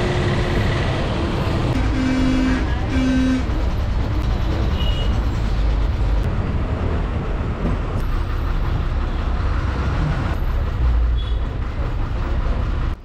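A Kerala state superfast bus on the road from Kumily to Kottayam rumbles steadily from inside the cabin, with continuous loud engine and road noise and occasional brief squeaks and rattles.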